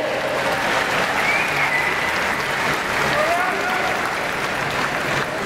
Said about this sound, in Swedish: Ge Sara en stor och varm applåd.